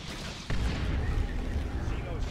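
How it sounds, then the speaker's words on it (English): A Hunter Killer missile strikes the Swarm Lord in the strategy game Dawn of War 2, Space Marines against Tyranids: a sudden heavy boom that kicks in abruptly and rumbles on, loud and low, amid ongoing battle noise. "You just saw the Hunter Killer missile hit the Swarm Lord there."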